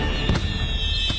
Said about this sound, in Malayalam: പക്ഷെ പടക്കങ്ങളൊക്കെ ഇപ്പോഴും പൊട്ടിക്കൊണ്ടിരിക്കുകയല്ലേ നമ്മുടെ ഇന്ത്യ മഹാരാജ്യത്ത്